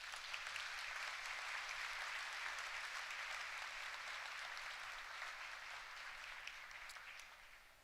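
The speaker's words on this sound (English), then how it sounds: "Would you please give them a round of applause?" Sustained audience applause at a benefit breakfast, a dense, even roar of many hands clapping that holds steady before slowly tapering toward the end.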